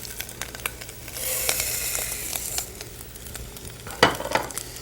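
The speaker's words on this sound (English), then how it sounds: "And saute that with those spices." Rice sautéing with spices in a pan, a quiet sizzle under scattered scraping and stirring strokes, with a sharper burst of sizzle near the end and no voices.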